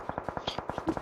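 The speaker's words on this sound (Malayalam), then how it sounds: "ഇതെന്താണ് എല്ലാരും പടക്കം പൊട്ടിക്കുന്ന ടക്ക് ടക്ക്" Firecrackers burst in a rapid, regular string of about a dozen sharp cracks, one after another, fairly close and loud.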